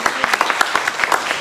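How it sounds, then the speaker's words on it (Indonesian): Scattered claps from a church congregation at a Sunday service, a quick run of sharp, uneven hand strikes that sounds fairly thin and close, with no voices over it. "Yang setuju boleh beri tepuk tangan yang terbaik."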